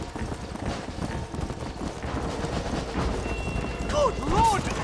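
Horse hooves gallop in Red Dead Redemption, the video game, a steady clip-clop under game chatter and scattered gunfire, with a voice speaking over the action.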